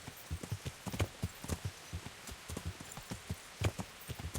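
Horse hooves clip-clopping steadily at a walking pace in the medieval video game Kingdom Come Deliverance, near the stables, a regular rhythm of soft hoof strikes heard alone.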